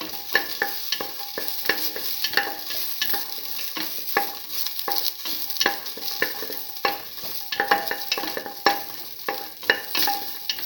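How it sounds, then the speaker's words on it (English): Garlic, ginger and shallots sautéing in a pan, with a steady sizzle and repeated clicks and scrapes of stirring throughout, close and moderately loud, with no talking. "Keep on sauteing."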